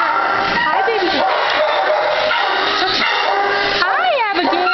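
Loud, constant chorus of several dogs barking, yipping and whimpering inside a North Platte animal shelter, close and echoing, with overlapping high yelps and whines throughout.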